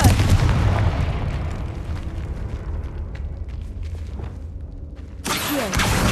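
A blasting-curse explosion booms from a wizarding action game, opening with a loud, dense burst that rumbles on and decays. A second sharp, bright blast cuts in near the end. No talking.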